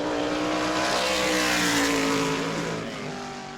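Car number 23, a PSR-chassis NASCAR Whelen Modified driven by Carson Lofton, roars close and loud on a qualifying lap at New Smyrna Speedway, its steady engine drone rising in pitch and then easing away, alone without talk.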